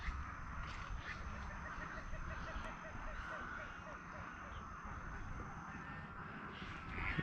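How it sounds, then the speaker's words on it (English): Many birds, including little herons, call together at dusk in an Everglades swamp in Big Cypress National Preserve, a dense, faint chorus of overlapping cackles and squawks under steady ambient noise, with someone talking quietly. "A symphony of, or a chorus of birds talking to each other."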